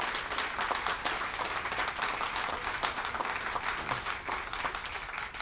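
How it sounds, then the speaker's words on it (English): A crowd applauds Sergeant Jason Snyder at a Southfield police memorial event, with steady, dense clapping at moderate level filling the whole stretch and no speech. "Give him a round of applause."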